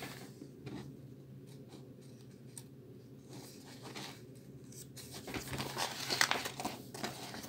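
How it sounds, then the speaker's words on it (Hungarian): Pages of a cardboard-backed Autosan H10 bus brochure are turned twice, giving soft papery rustles and crinkles that build toward the end against a quiet room. "nézzünk bele egy kicsit, csak úgy kettőt lapozunk így"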